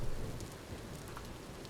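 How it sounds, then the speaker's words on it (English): A thunderstorm over open plains in the video game Vintage Story, steady dense rain hissing with a low rumbling roll of thunder underneath, continuous and alone. "Just me running across the open plains in a lightning storm."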